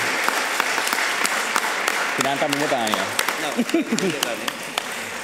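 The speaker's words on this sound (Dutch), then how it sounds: "hem even een applausje te geven" A church congregation at a Mass in Tilburg applauds steadily, the clapping spread through the room while a voice speaks and sings over it partway through.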